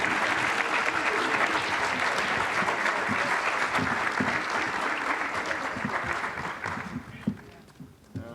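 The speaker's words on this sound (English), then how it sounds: "Come on, clap your hands" An audience applauds at a homecoming event for Deion Sanders in Fort Myers, a loud, sustained roar of clapping that thins out and fades near the end.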